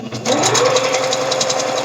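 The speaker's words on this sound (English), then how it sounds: "Like your sewing machine will catch." A home sewing machine runs steadily up close, stitching a seam on a romper while the fabric gathers, its rapid needle chatter continuous and loud after a brief start.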